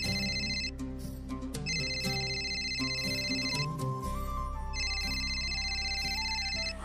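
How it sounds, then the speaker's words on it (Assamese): A mobile phone rings with a bright electronic ringtone that plays in repeated bursts over a steady musical background, loud and continuous throughout. "সন্ধ্যা ফোন বাজি আছে"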